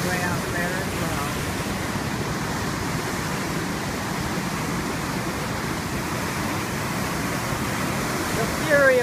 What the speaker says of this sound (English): The fury of the waves,